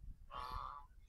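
A single short, faint honking call from one of several ducks standing near the water at a resort, heard alone over a quiet background.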